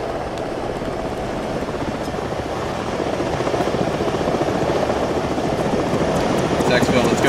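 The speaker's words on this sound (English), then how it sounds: "Get to the helicopter." Helicopter in the video game Arma 3, a steady loud rotor and engine drone that builds slightly as it lifts off, running throughout beneath occasional voices.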